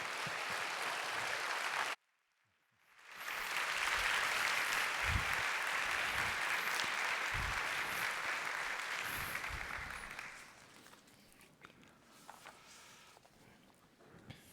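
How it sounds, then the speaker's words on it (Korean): A church congregation at a young adults' Sunday worship service in Korea applauds to welcome a pastor to the stage, dense steady clapping filling the room for several seconds before tapering off into quieter room sound. "박수로 목사님을 모시도록 하겠습니다"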